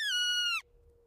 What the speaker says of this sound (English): The marmot sentinels scream a continuous alarm,